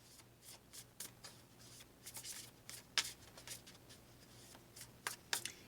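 A deck of Light Seers tarot cards is shuffled by hand, with quick soft riffling bursts and card slaps repeating irregularly, close and quiet, with no talking.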